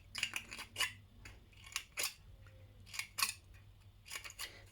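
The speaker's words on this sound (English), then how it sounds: "all you're going to do is just make a series of snips right down to the centre" Scissors make a quick series of sharp snips into thin tin-can metal, cutting a fringe for a poppy's centre, about a dozen crisp close cuts in uneven clusters with brief pauses between.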